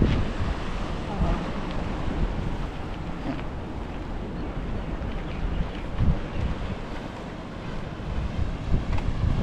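Strong ocean waves wash onto a beach at a seaside hotel in Fujairah, a continuous surf roar mixed with wind buffeting the microphone, with brief voices faint underneath.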